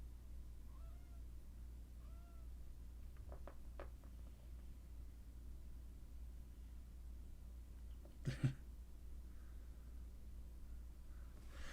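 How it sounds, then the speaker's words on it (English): A cat meows faintly a few times in a quiet outdoor setting, with short soft calls spaced apart and a louder brief burst later. Steady low background hum runs throughout. "Hey, good cat. Want to come up?"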